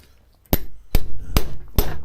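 A small brass hammer strikes stud kit pieces four times in a steady rhythm, each hit a sharp, close, ringing metallic tap followed by a short decay.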